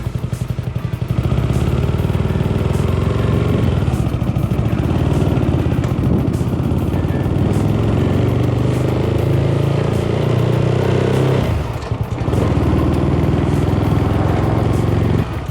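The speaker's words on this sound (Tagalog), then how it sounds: "Let's start the engine." A Honda CBR150R project motorcycle engine catches after a brief start and settles into a loud, close, steady running drone with a rough mechanical rattle, dipping briefly before picking back up.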